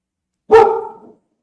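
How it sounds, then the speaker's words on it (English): A single dog bark, close and loud, standing alone against silence. "Who Puppers is barking"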